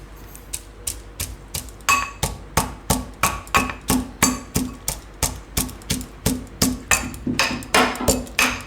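Cumin seeds and garlic pounded in a mortar and pestle for a spinach and millet paratha, a steady run of sharp, close, evenly spaced thuds and clinks with no voice.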